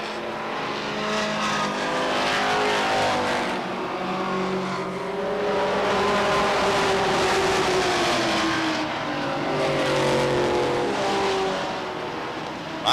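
Stock cars racing at Beech Ridge Motor Speedway in 1991, a tightly bunched pack roaring steadily around the oval with engine drone rising and falling as cars sweep past, loud and continuous with no talk.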